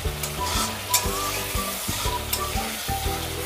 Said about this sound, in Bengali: আমি আরও কষিয়ে নেব মিনিট 2